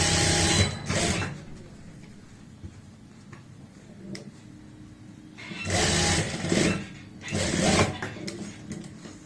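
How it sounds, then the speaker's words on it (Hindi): A sewing machine stitching palazzo trousers runs in short loud bursts, one at the start and several later, separated by quieter pauses of fabric handling. "ऐसे यहाँ पे खींच के अच्छे से सेट कर लेंगे और सिलाई लगा लेंगे"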